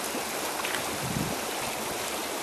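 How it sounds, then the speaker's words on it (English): A river on the Housatonic funnels through a narrow channel, rushing water making a loud, dense, continuous roar with surging turbulence and no voices. "The whole river's funneling down this really narrow channel"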